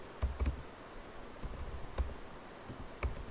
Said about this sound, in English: So I say name and then I type marks